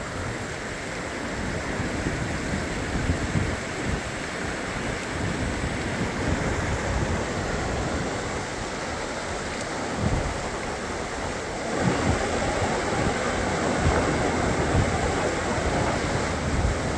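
The Psezuapse river near Lazarevskoye, Sochi, flowing in spring, a broad continuous rushing roar heard close up, steady throughout with brief swells and wind buffeting, no voices.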